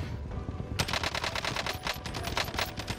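SCAR rifle fire in the video game Warzone, a rapid loud burst of automatic shots in a steady rhythm that starts abruptly and continues to the end.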